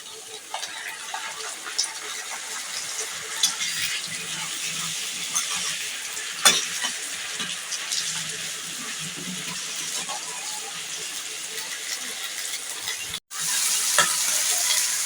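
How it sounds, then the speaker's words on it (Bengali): Onions frying with ginger-garlic paste in a home kitchen, a continuous sizzle with scraping stirs of a spoon throughout, then a sudden brief cut and a louder surge of sizzling near the end. "পেঁয়াজটা ভাজা ভাজা হয়ে গেছে, এখন আমি দিয়ে দিচ্ছি আদা রসুন পেস্ট।"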